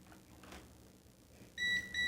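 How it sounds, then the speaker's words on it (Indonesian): A multimeter's continuity test gives two short, clear electronic beeps near the end, each a steady high tone after a quiet stretch of faint handling noise. "sudah bisa mendengarkan ada bunyi bip, artinya sudah terhubung"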